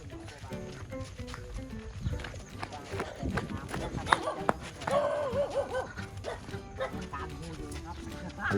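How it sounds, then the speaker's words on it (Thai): A dog barks several times among people talking and moving around, with footsteps and clattering in the background. "ครับหมาเห่า"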